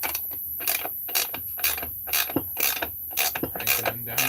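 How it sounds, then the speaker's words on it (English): A homemade press is cranked down onto a Husqvarna 288XP chainsaw crankcase, giving a close, rhythmic ratcheting click with gear-like mechanical bursts roughly every half second, without talk. "Crank it on down. It should go nice and smooth."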